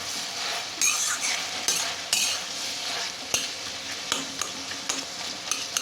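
Vegetables with softened tomatoes for sambar dal are stirred in a pan, a close, steady sizzle and rustling scrape punctuated by sharper clinks of the spoon against the pan every second or so, with no voices.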